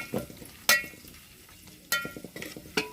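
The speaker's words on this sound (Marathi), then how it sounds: "आता हे मॅरिनेट केलेलं जे आहे मच्छीचे डोके ते आपण याच्यामध्ये घालून" Marinated fish heads coated in garlic and masala frying in oil over a wood-fired stove, with bursts of sizzling and stirring clatter rising and fading several times at close range, no talking.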